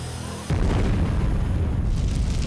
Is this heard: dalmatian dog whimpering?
no